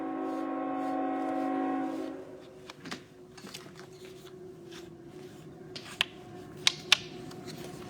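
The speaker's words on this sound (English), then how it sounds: "Another train." A train rumbles loudly nearby with a steady low drone for about two seconds, then fades into a distant rolling hum, punctuated by a few sharp clanks and clicks toward the end.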